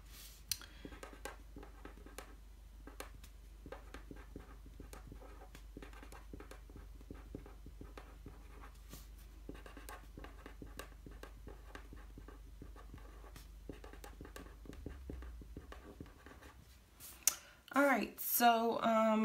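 A pen scratches steadily across the pages of a paper planner, a soft, continuous writing sound with small taps and strokes, ending in a few louder rustles.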